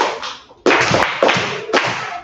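Students in a grade 5 online lesson clap for a classmate, a few sharp bursts of hand claps and taps close to the microphone, each burst decaying quickly before the next.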